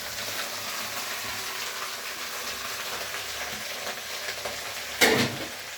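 Three handfuls of curry leaves frying in hot sesame oil, a steady crackling sizzle with light stirring, close by, and a brief louder scrape or clatter near the end.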